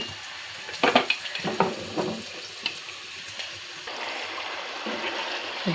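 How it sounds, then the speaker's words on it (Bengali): Potatoes and lentil dumplings frying together in a pan, a quiet sizzle with a few stirring clatters early on, then a soft steady hiss. "তারপর আলু ভেজে নিচ্ছি, একসাথে কুমড়ো বড়িও দিয়ে দেবো।"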